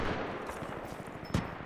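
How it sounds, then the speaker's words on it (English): Distant gunfire in the video game Titanfall 2, rapid automatic bursts crackling under a busy game soundscape, with one louder close shot near the end. "I hear a lot of gunshots."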